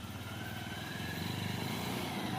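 A motorcycle engine labours on a muddy red soil track, a steady close throbbing drone that rises slightly toward the end with no break.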